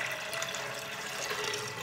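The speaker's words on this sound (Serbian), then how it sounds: "Sada ću sipati vodu da prekrije pasulj." Water pours in a steady, continuous rush over 500 g of cleaned white beans in a pot, close and even throughout with no talking.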